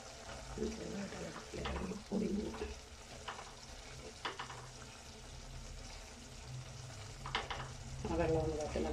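Kerala-style sardine (mathi) peera with coconut oil sizzles and bubbles in an uncovered pan as the water cooks off, a steady crackling hiss with occasional stirring clinks, while a person speaks intermittently.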